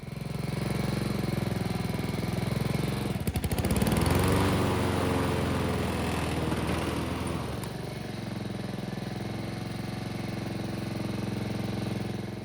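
Honda lawn mower engine running steadily and loudly during a test after a repair, with a brief rattling surge in the middle before settling back into an even drone.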